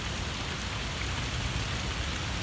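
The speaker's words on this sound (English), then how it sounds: "The raindrops just got bigger." Heavy, steady rain of large drops pounding down during a severe thunderstorm in Westfield, Massachusetts, a dense continuous hiss of drops striking surfaces nearby, with no pauses or voices.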